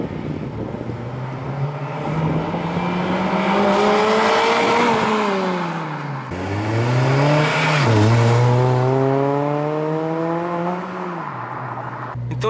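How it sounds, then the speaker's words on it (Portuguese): A Honda Civic Si with aftermarket mufflers and a modified exhaust revs up and down repeatedly, the engine note climbing and falling in long sweeping pulls, loud and close with no talking. "E olha que barulhinho top que tá o carro dele."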